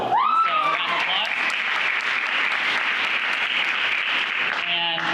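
At a panel discussion on suicide, the audience applauds the lead ambassador with a sustained, dense wash of clapping that swells and holds. A voice speaks briefly just before the applause begins and again as it fades.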